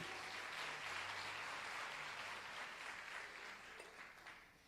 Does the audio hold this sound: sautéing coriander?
no